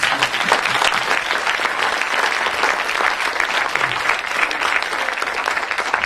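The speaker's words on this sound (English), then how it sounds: "a great round of applause for you and the family." An audience applauds steadily and fairly loudly for the family of Paul Signorelli, executive chairman of Doltone House Group, a dense wash of many hands clapping without pause and with no voices over it.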